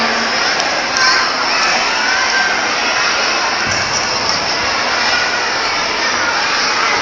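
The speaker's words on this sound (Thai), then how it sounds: "น้องอสองให้กำลังใจเพื่อนๆนะคะ เสียงดังมากนะคะ" A large crowd of kindergarten children cheers and shouts loudly and continuously, a dense, high-pitched roar with no pauses.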